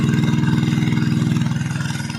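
A farm machine engine, running dry and smoking, chugs in a fast, even, loud pulsing rhythm close by, with no voices over it.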